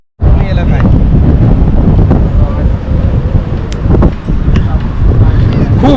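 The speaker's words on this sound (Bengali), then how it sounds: "হাওয়া চলছে খুব হাওয়া" Strong wind at Digha beach roars and buffets the microphone in a constant, heavy rumble, nearly drowning out a voice speaking underneath.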